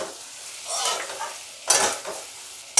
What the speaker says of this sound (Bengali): এই জন্য এইভাবে ঘন ঘন নাড়িয়ে এটাকে ভাজতে হবে